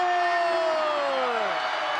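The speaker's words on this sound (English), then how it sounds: "And listen to this crowd" A packed basketball arena crowd roars and cheers during the PBA Commissioner's Cup Finals Game 2, TNT versus Barangay Ginebra. The wash of noise is steady and loud, with a sliding whistle-like tone cutting through it.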